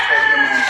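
A rooster at a gamecock farm lets out a short, loud crow close to the listener, a single strained, sustained call.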